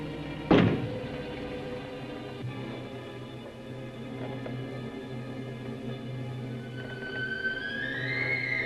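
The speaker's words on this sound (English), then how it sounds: "Knock once if you hear me." A single sharp knock on a closet door lands near the start, followed by a low sustained musical drone with rising tones toward the end.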